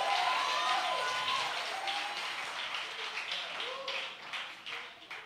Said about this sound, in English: you ought to clap your hands right there